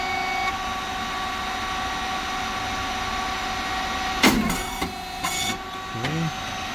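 An SYP9002 rice cake machine with a three-phase motor, oil pump and cooling fan running, giving a steady loud mechanical hum with high tonal whine, broken near the end by a few short clanks and hisses.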